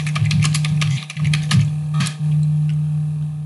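Close, fairly loud computer keyboard typing, clustered keystrokes in short bursts over a steady electrical hum.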